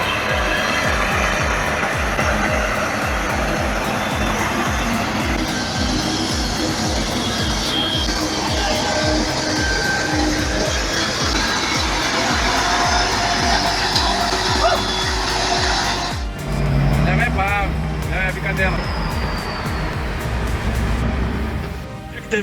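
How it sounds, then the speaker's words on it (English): A heavy logging truck loaded with logs climbs a rough mountain road, its engine a steady loud drone with rumbling and clattering over the uneven ground, shifting toward the end as people talk. "the truck's wheels grip the uneven terrain with precision, while the heavy load of logs swings behind"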